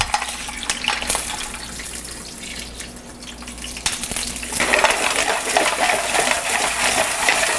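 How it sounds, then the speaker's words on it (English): Little neck clams and mussels tumble into a bouillabaisse pot with a clattering splash, followed by steady bubbling and sizzling that grows louder toward the end, with no talking. "I'm going to add first the little necks because they take a lot of time to open up. I'm going to add my mussels."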